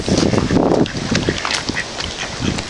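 Ducks quacking loudly and close by, several overlapping calls in a busy, steady chorus.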